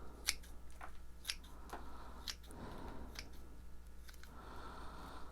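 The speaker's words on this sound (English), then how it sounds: "Here's a root going down. I'm going to cut it." Scissors snip through a lime plant's root during repotting, with several crisp, close clicks spaced about a second apart over a quiet background.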